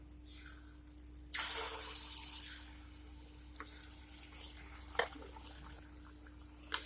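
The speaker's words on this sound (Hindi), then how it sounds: "एक एक करके हम तेल में डालते जाएंगे" Sweet bonda balls, a stuffed sweet dish, are dropped into hot frying oil. A bright burst of sizzling flares up and then settles into a softer crackle, with occasional pops and clinks.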